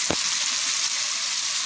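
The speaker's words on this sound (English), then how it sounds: "If you want your bacon to get real crispy before we go to the next step." Bacon crackles and sizzles in a wok over high heat, a loud, continuous close spatter with one sharp knock at the start.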